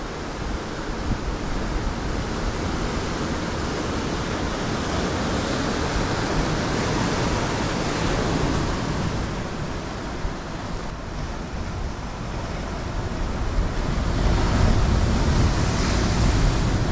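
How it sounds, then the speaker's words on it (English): Large ocean waves crashing along a shore where someone is fishing, a dense continuous roar of surf with slow swells in loudness, loud and near, with wind noise and no speech. "Wow, huge waves."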